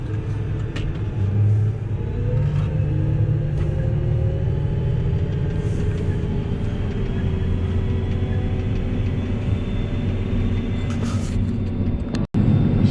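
Farm tractor engine running steadily with the power take-off engaged during organic wheat sowing in a field, a loud continuous low rumble with a brief dropout near the end.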